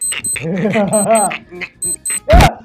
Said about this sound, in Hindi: उधर एक बच्चे की घड़ी का अलार्म बज गया और वो बजता भी बॉम्ब के टाइमर जैसा है